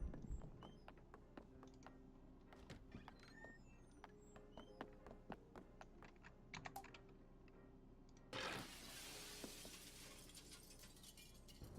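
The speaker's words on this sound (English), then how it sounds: "Glass shattering." Glass shatters in the video game The Sexy Brutale, a sudden bright crash near the end that follows many soft clicks and taps at moderate volume.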